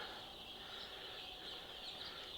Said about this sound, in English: And these are our layer hens,